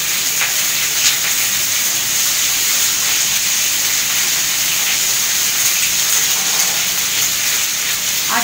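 Cauliflower fries in a pan with little oil and no turmeric while fish cooks alongside in a Bengali home kitchen, giving a steady close hiss and crackling sizzle throughout with no talk.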